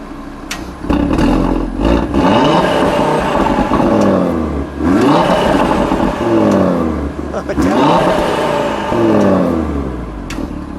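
A 2019 Audi TT RS Quattro coupe in sport mode, revved loudly several times in close succession, each sweep rising and falling, with people talking over and between the revs.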